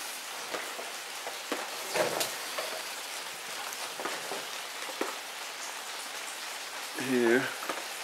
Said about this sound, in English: You might be able to hear some dripping.